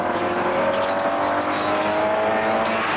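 Production saloon race cars from 1987 roar steadily past on the straight at Mondello Park, a continuous loud engine drone with a rising whine that carries over faint commentary.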